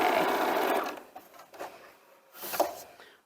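A sewing machine stitches quilt rows together in a fast, buzzing run that stops after about a second, followed by a few quieter clicks and shuffles of fabric handling and a brief second burst near the end.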